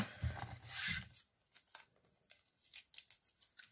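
Scissors snip through tape while a storage piece is lined inside, a brief close crunch of cutting followed by faint scattered rustles and small handling clicks, quiet overall.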